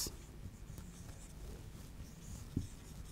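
Chalk or marker strokes on a classroom board come as a series of short scratchy marks, fairly close and uneven in rhythm, with one sharper tap near the end.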